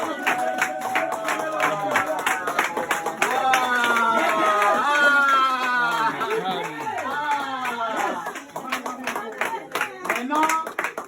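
A church congregation claps and cheers for Jesus at a healing service, with dense rhythmic clapping and loud, overlapping shouting voices that swell for several seconds before thinning out.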